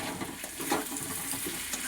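Potatoes, onions and tomatoes frying together in a pan on a raised gas flame, with a continuous close sizzle and soft stirring scrapes over about two seconds, no voices.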